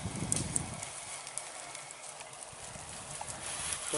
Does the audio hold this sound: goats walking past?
yes